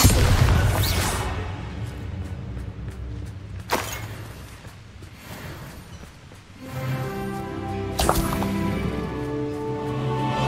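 Bombarda spell blasts in Hogwarts Legacy, two sharp booming explosions about four seconds apart with crackling debris tails, over a steady rumbling game soundscape and background music.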